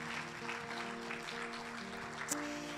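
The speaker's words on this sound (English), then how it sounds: "Go ahead, you can clap for the Lord." A church congregation claps together under sustained organ or keyboard chords, a dense even patter of applause lasting the whole moment at moderate distance.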